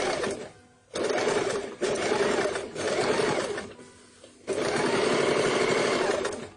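Sewing machine stitching fabric for a baby shirt, running in several fast rapid bursts separated by short pauses, close and loud with no talk.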